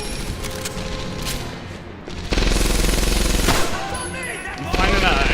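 Sustained bursts of MG42 machine gun fire in the World War II shooter Medal of Honor: Airborne, loud and dense with a brief lull before a heavier stretch, mixed with game effects and other gunfire.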